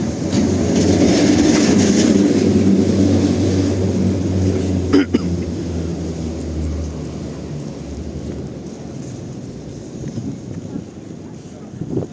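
A tram rumbles along a street in Lviv during the Christmas festival, a loud low clattering roll with a sharp metallic clank midway, fading as it moves on.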